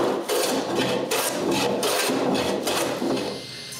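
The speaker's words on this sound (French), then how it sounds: "j'utilise un rabot." A hand plane shaves a glued wooden blank in repeated forceful strokes, each a loud close rasping swish with brief gaps between passes.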